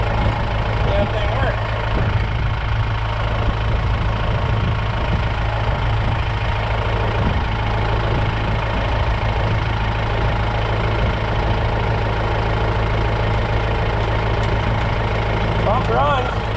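A farm transfer pump runs steadily in a continuous, loud mechanical drone, with an engine-like hum holding level throughout and faint background noise.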